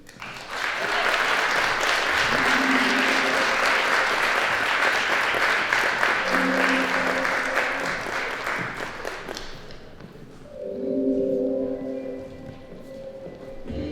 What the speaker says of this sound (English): Give another round of applause for Dr. WholeEvent.